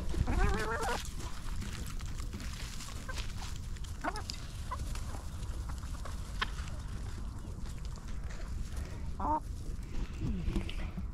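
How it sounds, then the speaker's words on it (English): Chickens cluck and murmur around a backyard coop, with occasional sharper squawks over a constant low background of rustling and movement, moderately close. "Which one's your favorite chicken, Ransom?"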